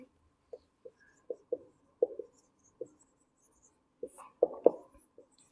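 Pen scratching on paper while working accounting depreciation problems, a series of short separate strokes and taps that bunch into a quicker scribble near the end, close and quiet with no talk.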